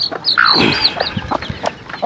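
Chickens feeding cluck and chirp in a loose run of short calls, some higher-pitched, fairly close by with a light outdoor background and no talking.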